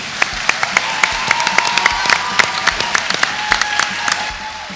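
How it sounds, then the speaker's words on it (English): Audience applause at a judged competition show's season finale: a dense, steady wash of clapping with sharper claps close by, lasting throughout. "Give him a round of applause, please."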